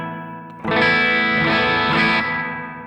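A guitar plays through an effects unit with heavy reverb and distortion, a sustained chord swelling in loudly and ringing out with a long, washy tail, and no talking.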